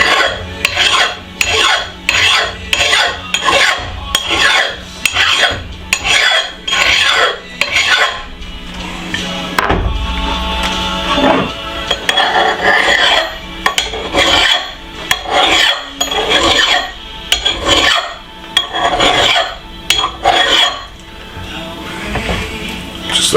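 A hand file rasping along the edge of a cheap Temu hatchet, producing repeated close, loud back-and-forth strokes in a steady rhythm, briefly pausing midway before the strokes resume.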